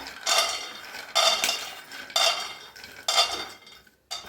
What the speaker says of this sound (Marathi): आता गॅसवर ठेवलेला आहे कढाई चांगली गरम झाले, शेंगदाणा भाजून घेऊया।